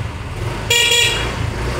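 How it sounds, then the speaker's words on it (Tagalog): Horn of a Yamaha Mio 125 motor scooter gives one short, bright toot lasting about half a second, close and loud over a low idle rumble. "Busina,"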